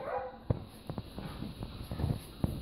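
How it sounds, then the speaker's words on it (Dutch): A Labrador giving short, sharp barks and yips, several close bursts spaced irregularly, with faint whimpering between them. "Wat voor labradortje zit erin, hè? Een labradortje zit erin."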